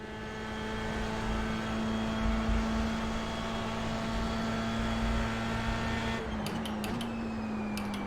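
Dallara F3 single-seater race car in the iRacing sim at Lime Rock Park, its engine droning at a steady high pitch as it cruises, with a shift or rev change near the end and brief clicks.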